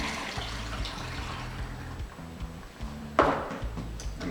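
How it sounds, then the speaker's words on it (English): Vinegar poured into a bottle, a close gurgling trickle with glugging pulses and a sharp splash near the end. "first we're going to start by putting the vinegar inside our choice of bottle."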